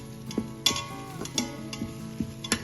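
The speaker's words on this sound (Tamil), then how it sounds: "இதோட இதை லைட்டாக ஒரு 30 செகண்ட்ஸ் அந்த அளவுக்கு திருப்பி விட்டால் போதும்" Spices with a pinch of asafoetida are stirred in a pan, giving soft sizzling under a run of light scraping clicks from the spoon against the metal.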